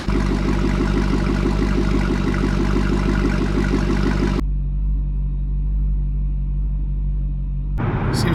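A C6 Corvette engine runs with a steady low rumble for several seconds before the sound cuts to a quieter, muffled drone, and a brief noise comes at the very end.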